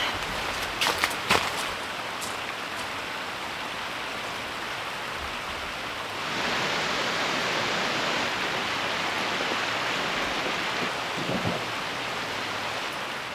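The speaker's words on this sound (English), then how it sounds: "Gonna be nice to be able to go to bed and just listen to the creek creaking." A forest creek flows at night beside a truck campsite, a steady broadband rush that swells slightly louder partway through. A few faint knocks sound early on.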